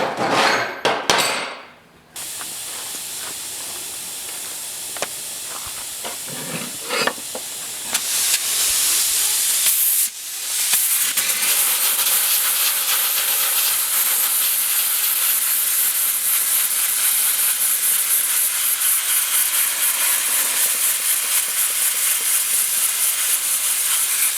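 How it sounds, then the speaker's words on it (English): A sandblaster hisses loud and steady as it blasts two metal pieces outdoors, with short bursts early on before one long continuous spray. "we'll give these two a little quick sandblast"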